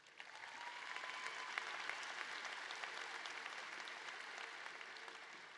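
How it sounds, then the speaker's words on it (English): A graduation ceremony audience applauds, a dense, sustained clapping that holds steady for several seconds, heard at a distance and fairly faint. "Well-deserved applause."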